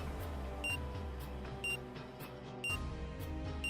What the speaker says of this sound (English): Time between the beeps gradually grew shorter and shorter